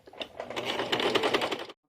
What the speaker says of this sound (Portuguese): eu viro o meu saquinho e prossigo aqui com a costura reta